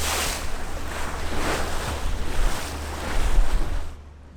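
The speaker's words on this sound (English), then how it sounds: "we boarded the ferry and set sail for mainland" A ferry sailing at sea after leaving the island of Hvar, a loud steady wash of wind and water rushing past with a low engine drone beneath, fading out at the end.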